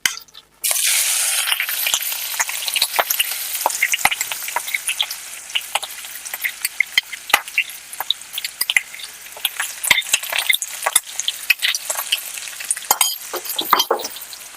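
Onions hit hot oil in a pan and sizzle loudly, with a burst at the start settling into steady frying crackle and frequent sharp pops and spatters.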